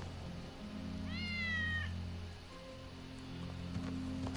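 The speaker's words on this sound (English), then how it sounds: "That's Wedge's cat." A cat in Final Fantasy 7 Remake gives one drawn-out, clear meow, followed by a fainter short call, over a low steady background hum with no talk.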